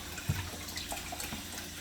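A garden hose sprays water against the walls of a backyard turtle tank, giving a steady close hiss and patter with no talking.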